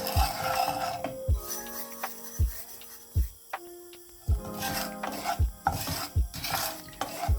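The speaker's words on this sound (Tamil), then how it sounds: "முதல்ல ரவையை லைட்டாக வறுத்தெடுக்கணும்" Semolina lightly roasting in a pan, stirred in regular scraping strokes about once a second, each with a dull knock of the spoon against the metal, close and clear over a faint sizzle.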